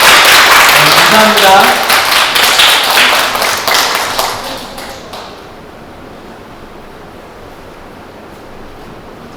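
Audience applause at a LAICOS 2024 Impact Demo Day event for the club president and vice president, a dense, loud burst of clapping that fades out after about five seconds into quiet room tone, with a brief spoken thank-you.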